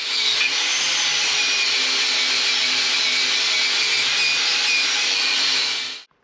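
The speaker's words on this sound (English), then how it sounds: "That's one that I've done with a wire brush and the grinder" An angle grinder fitted with a wire brush cleans the spring seats on a car's suspension, a steady loud whirring grind that runs continuously for about six seconds and then cuts off abruptly.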